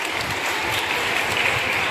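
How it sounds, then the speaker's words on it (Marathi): An audience claps warmly for a stage performance at a school Ambedkar Jayanti celebration, a full, sustained round of applause from a crowd with no speech over it. "या परफॉर्मन्ससाठी जोरदार टाळ्या होऊन जाऊ द्या"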